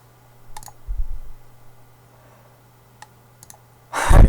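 Sharp computer mouse clicks, a few isolated ones spaced over several seconds, close and fairly quiet against a steady low hum, ending in a louder burst of handling noise.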